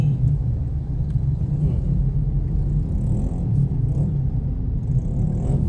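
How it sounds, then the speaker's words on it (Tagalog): Steady low rumble of congested road traffic heavy with large trucks near a Shell petrol station in Santander, idling and creeping engines droning continuously with no clear passes, loud and close. "Ayan, traffic. Puro truck kasi."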